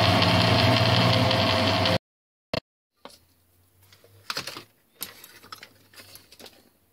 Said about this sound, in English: The shank diameter is then turned.